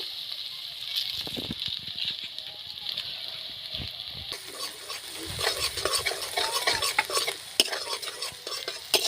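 Carrot, ginger and minced garlic fry in a pan for ghugni, with a soft sizzle and frequent clattering stirs. The frying grows louder and brighter partway through.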